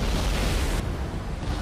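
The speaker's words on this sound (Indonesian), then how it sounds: "masuk ke dalam air lalu meledak" In a film scene, a vessel plunges into water and explodes, producing a loud, dense roar of broadband rumble that holds steady throughout, with no voices.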